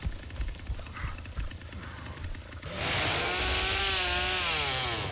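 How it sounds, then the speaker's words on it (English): Chainsaw in The Texas Chain Saw Massacre video game, faint game ambience with thuds at first, then a loud, steady revving chainsaw drone kicks in near the end and holds. "they can hear the miner chainsaw noise"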